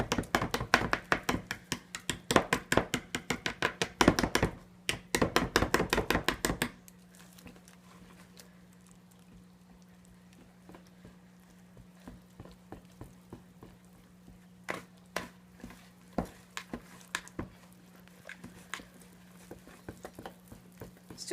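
A whisk stirs crepe batter of water and milk in a bowl, a quick run of light clicking taps that then thins to scattered soft knocks against a low hum.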